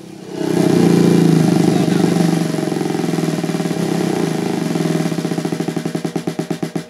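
A solenoid drum beater striking at about 4,000 beats per minute, so fast it blurs into a buzzing engine-like drone, steady and loud, breaking into distinct pulsing beats near the end.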